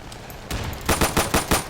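Pistol fire in the tactical shooter Insurgency: one burst followed by four sharp shots in quick, fairly even succession, loud and close, with no voices.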